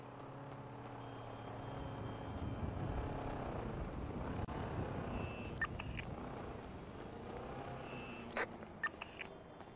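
A car drives in the GTA roleplay game on the NoPixel 4.0 server, its engine a low, continuous rumble with short chirps and clicks over it and no talk.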